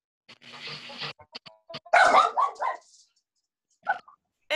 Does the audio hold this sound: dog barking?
yes